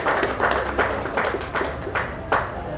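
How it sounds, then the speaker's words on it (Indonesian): Students give a short round of applause at a public discussion, with distinct bursts of clapping rising and falling in a roughly steady rhythm at moderate volume. "Tepuk tangan untuk para mahasiswa."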